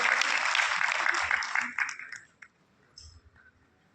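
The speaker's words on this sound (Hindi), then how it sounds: "माननीय संस्थापक महोदय जी का जोरदार तालियों के साथ मंच पर आना।" An audience at an award ceremony claps loudly as the founder comes onto the stage. The applause is dense at first and dies away into scattered claps and faint murmurs.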